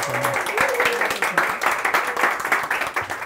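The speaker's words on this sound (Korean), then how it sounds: "자기 자신들한테 박수 한번 크게 쳐줬으면" Audience applauding at a Korean reading and book-summary mentoring event, a steady patter of many hands clapping at moderate volume with voices audible underneath.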